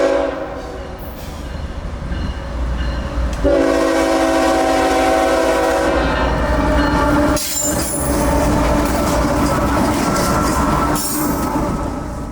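CSX GE locomotives 5117 and 3100 lead intermodal train IO32 past at close range, a loud continuous rumble of engines and rolling wheels with blasts of the air horn sounding over it.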